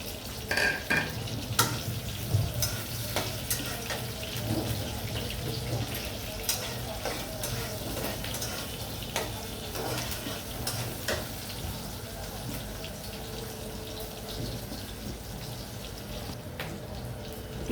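Chopped onions and chilies sizzle in hot oil in a wok while a spatula stirs and scrapes them, steady frying hiss with repeated clicks and taps of metal throughout, no talking.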